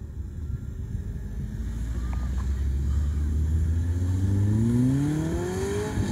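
An Ariel Atom car driving around a racetrack, its engine rising in pitch as it accelerates past from a distance, steady rumble swelling louder then easing, with wind noise on the microphone.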